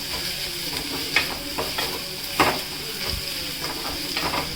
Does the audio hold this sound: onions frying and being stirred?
yes